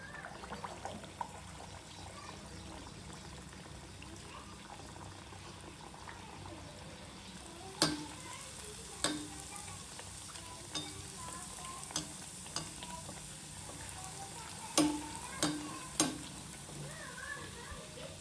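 Mangalore buns deep-fry in hot oil, giving a continuous soft bubbling sizzle. Occasional sharp clinks and scrapes of a utensil against the pan punctuate it, with faint talk in the background.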